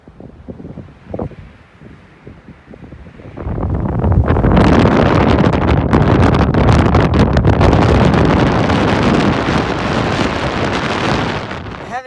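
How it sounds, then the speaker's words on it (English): Strong wind gusting outdoors in Texas, a loud, broadband roar buffeting the microphone that rises sharply after a few quieter seconds and then blows steadily to the end. "It's so windy out."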